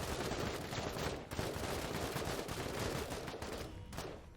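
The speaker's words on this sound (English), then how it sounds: "Lay down suppressive fire." Suppressive gunfire in the video game MENACE: a dense, unbroken barrage of rapid shots and automatic bursts that overlap continuously at close, loud range.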